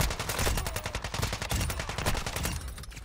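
Rapid bursts of gunfire from a weapon in the Call of Duty DMZ video game, loud and dense, shots cracking in close succession for about three seconds with a slight tail-off near the end.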